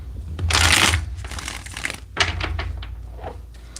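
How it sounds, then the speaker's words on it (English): A tarot card deck being shuffled close by, with a loud rustling burst followed by a quicker run of softer flicks and crinkling snaps. "let's get 5 good shuffles"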